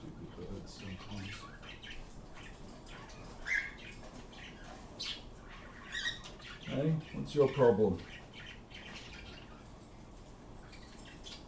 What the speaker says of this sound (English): Stupid birds sometimes.